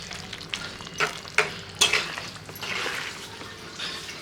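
Rohu fish-head muri ghonto frying in a pan, stirred with several scraping, clattering strokes over a continuous close sizzle, no voices.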